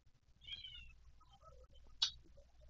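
A house cat meowing twice, a drawn-out call followed by a sharper short one about a second and a half later, faint and close in a quiet room.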